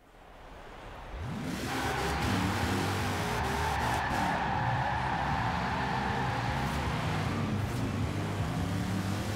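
A drift van in the racing game Forza Horizon 4, with about 80% of power to the rear wheels, revving up into a loud, sustained engine drone with squealing tyres skidding, continuous and close.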